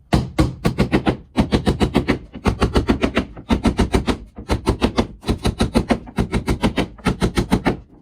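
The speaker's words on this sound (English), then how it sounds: "I'm going to show you the fastest nailing in the world. With an hammer." Rapid bursts of sharp hammer strikes driving nails by hand, fired in quick rhythmic runs of several blows each, loud and close with brief pauses between runs, during a koi pond build.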